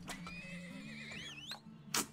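A horse whinnies in the video game Turmoil. The call is a single long neigh that wavers through the middle of the clip, with a softer snort near the end, over a low steady game soundtrack.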